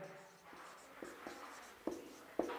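Chalk or pen writing on a board during a maths lesson, with faint scratchy strokes and a few sharper taps at irregular intervals, quiet and close.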